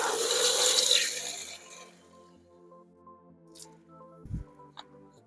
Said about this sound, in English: So what I'll do, I'll give it a rinse.